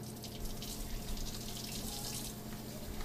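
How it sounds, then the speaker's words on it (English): Cold water runs steadily from a kitchen tap into a sink, a continuous close rushing and splashing with no talk. "And now we're just going to turn on our water to a little bit of a colder temperature."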